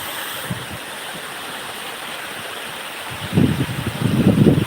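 Rushing water flows steadily in the rain, a broad continuous roar that swells louder and rougher near the end.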